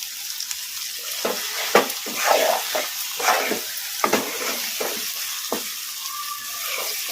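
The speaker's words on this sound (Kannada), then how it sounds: "ಈಗ ನಾನು ಸೈಡ್ ಡಿಶ್ ಆಗಿ ತಿನ್ನೋದಕ್ಕೆ ಒಂದು ಸ್ವಲ್ಪ ಹೈ ಫ್ಲೇಮಲ್ಲಿ ಇಟ್ಕೊಂಡು ಫ್ರೈ ಮಾಡ್ಕೊತೀನಿ" Chicken frying in a pan on a high flame, giving a steady close sizzle with intermittent sharp crackles and stirring scrapes throughout, no talking.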